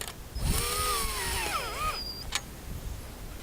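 A power tool, such as a drill or driver, tightens a cover clamp that joins rubber-lined sailboat tubing. Its whine bends down and up in pitch for about two seconds, then a short metallic click follows in a quiet room.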